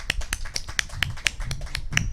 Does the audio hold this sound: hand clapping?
yes